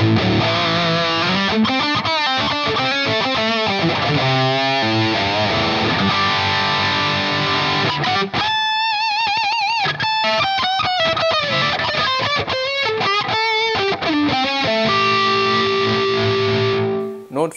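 Electric guitar through a distortion drive tone on a beginner instrument, playing a run of clean-articulated riffs and sustained notes, close and loud throughout with no voices.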